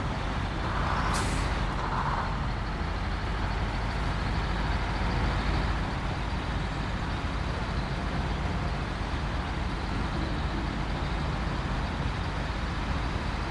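A truck in the video game SnowRunner ploughs through marshy farmland bogs, its engine a steady loud rumble with a brief hissing burst early on.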